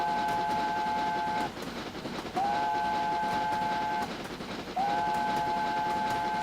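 A steam train on a narrow gauge railway sounds its whistle in three long, steady blasts separated by short gaps, loud and close over a constant rumble and clatter of the running train.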